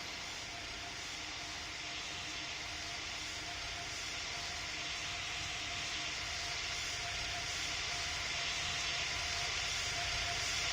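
An Emirates jet spools up for takeoff in Pilot Training Flight Simulator, a steady broad engine roar with a thin high whine that slowly builds in loudness over about eleven seconds, heard alone.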